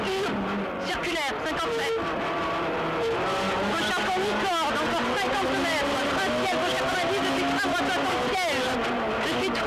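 A Renault Clio R3 rally car's engine revs hard and shifts gear from inside the cabin, with tires skidding on loose ground and a voice talking in French over the noise throughout, during the 2008 Rallye Sanremo, with brake problems.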